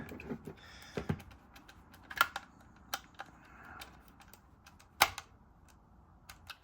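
Small screws being driven into a Game Boy Color plastic shell, heard as scattered faint clicks and taps with a few sharper ticks, close and quiet with no talking.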